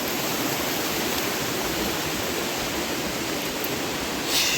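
Steady rushing of a clear mountain stream flowing through forest beside the Narmada, a dense, continuous broadband roar close by with no talking.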